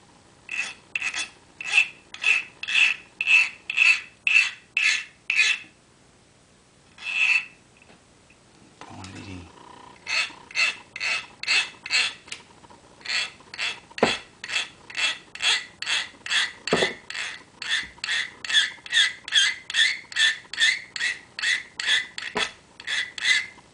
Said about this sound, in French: Maintenant il n'y a plus qu'à bien limer tout doucement.